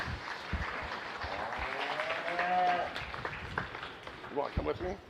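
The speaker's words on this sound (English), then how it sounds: "Give these round of applause to these exhibitors on a great lineup of showmen." Applause from a county fair audience for beef cattle showmen and exhibitors, a steady patter of clapping over a murmuring crowd, with cattle and voices nearby and a brief tonal cry in the middle.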